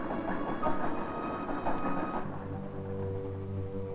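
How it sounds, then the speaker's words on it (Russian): Work trains rolling along a railway through the taiga, a steady rumble with rhythmic wheel clatter, then a lower droning engine tone settling in, close and continuous with no speech. "Рабочие поезда идут на главный участок трассы один за другим."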